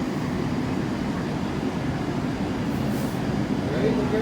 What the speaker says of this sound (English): The train to Central is arriving.